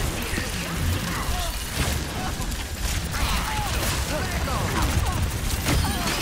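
Rapid gunfire in the video game Overwatch 2, aimed at Lucio during a competitive match, crackles as a steady burst mixed with dense game effects and explosions across the whole stretch.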